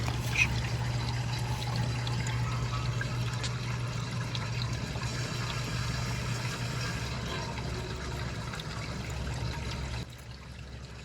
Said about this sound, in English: Tub is flowing.